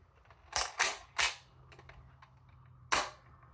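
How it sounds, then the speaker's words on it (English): Nerf AR-15 toy blaster firing with shell ejection: three quick sharp cracks close together, then one more shot after a pause, each a crisp close snap with faint mechanical clatter. "And the shell ejecting is great."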